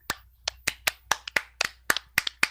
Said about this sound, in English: it sounds like there's 2 or 3 of them clapping